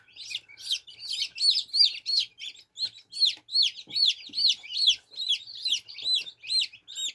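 Newly hatched chicks in a foam incubator peep in a steady stream of high, rapid chirps. The calls overlap one another, are close and fairly loud, and continue without a break with no talk.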